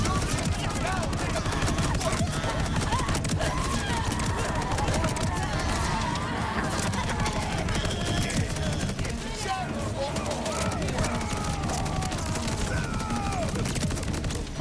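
Rapid automatic gunfire in Borderlands 4, bursts rattling almost without pause over a dense bed of game effects, steady and loud throughout with no clear gaps.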